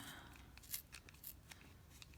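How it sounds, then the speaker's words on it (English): Scissors snip through yarn strings wound on a pom pom maker, a few quick close cuts at low volume in an otherwise quiet room. "You put your scissors basically in the channel, and I can put my thumb now over it, and you just cut down the channel."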